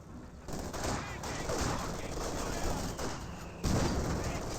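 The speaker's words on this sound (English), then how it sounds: "Rifle grenade fired." A rifle grenade fires in Company of Heroes 2, a sharp blast over ongoing battlefield gunfire, with another loud report near the end.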